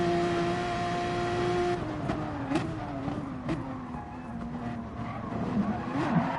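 A racing car's engine drones and shifts while its tyres squeal in short skids as it slides into oversteer at the Nürburgring GP circuit in Gran Turismo Sport, with other cars audible nearby.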